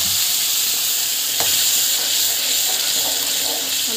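Ground masala paste sizzling in hot oil for a mushroom gravy, a steady broadband frying hiss that stays loud and even throughout, with a few faint scrapes of stirring.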